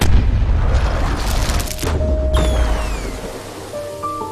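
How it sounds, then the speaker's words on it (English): A giant metal cannon fires in the animated film Kung Fu Panda 2, a loud booming blast with rumbling low-end roar that rolls on and decays, followed by ringing metallic tones and fading debris. "there's still no match for a giant metal cannon"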